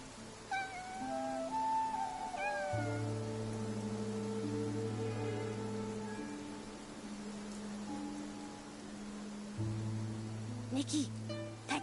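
A cat meows in the video game Infinity Nikki, several short wavering cries in the first seconds over a steady musical soundtrack and light rain, with a voice speaking at times.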